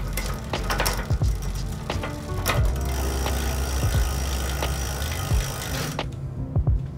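A bicycle freewheel ratchet clicks steadily after being sprayed during an eBike clean, with a dense run of rapid mechanical ticks under a spraying hiss that cuts off near the end, leaving a few isolated clicks.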